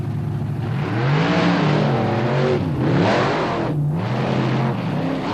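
Monster truck engines rev hard at the start of a race at the 1999 Thunder on the Beach in Wildwood, New Jersey, a loud continuous roar with rising and falling pitch sweeps, commentary running over it.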